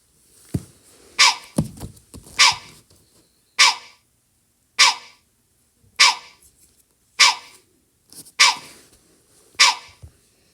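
A Sprunki game character named Wenda voices a run of about eight short, bright, breathy bursts, spaced roughly evenly, loud and close with quiet gaps between them and no talk.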